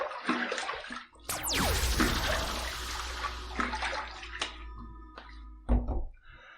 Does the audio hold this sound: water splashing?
yes